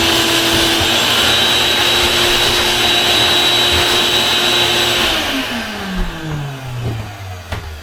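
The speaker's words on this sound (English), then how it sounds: "that's my exhaust for my vacuum cleaner here to exhaust all the dust outside." A vacuum cleaner working on a rotted bathroom subfloor replacement, its exhaust vented outside, roars with a steady loud whine for about five seconds, then its motor winds down with a falling pitch as it shuts off.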